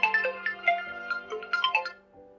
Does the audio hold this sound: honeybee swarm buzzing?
no